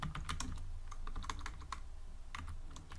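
Someone types on a computer keyboard, fairly quiet and close, with quick clusters of key clicks and short pauses between bursts.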